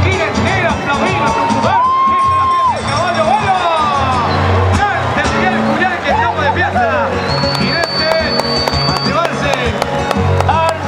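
A large crowd at a horse bucking rodeo festival roars, cheers and whoops continuously, loud and close, while an announcer's amplified voice carries over the noise.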